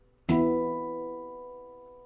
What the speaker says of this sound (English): the B, and the E octave.